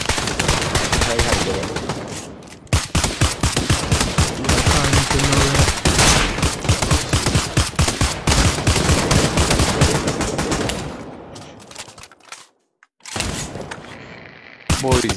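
Dense, loud, continuous gunfire in the VR shooter Pavlov, rapid automatic bursts running almost nonstop, briefly cutting out before resuming, with players talking over it.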